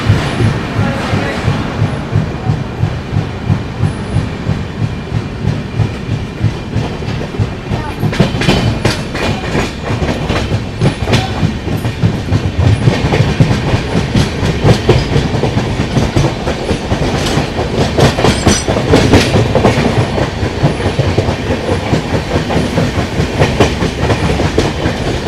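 A passenger train bound from Kolkata toward Darjeeling runs at about 130 km/h in heavy rain. A loud, continuous rumble carries the rhythmic clickety-clack of the wheels over the rail joints, steady from start to finish.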